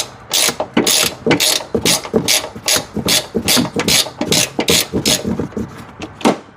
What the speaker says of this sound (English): we're going to take off the top nuts, and the ratcheting wrenches will definitely help out with that